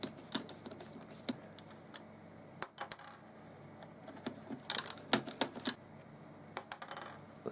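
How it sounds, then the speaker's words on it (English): Small screws being taken out of a Nikko Sea Star toy submarine, with sharp plastic clicks, light metallic ticks and a few rattling drops close by in an otherwise quiet room. "So let's take off these 2 screws."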